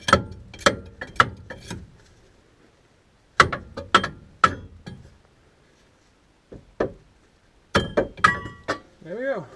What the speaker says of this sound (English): taking off the two bolts holding the leaf spring on